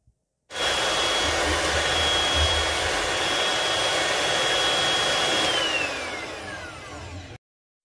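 An electric hand mixer beating whipped cream in a kitchen, switched on with a steady, loud motor whir that holds for about seven seconds before slowing and cutting off.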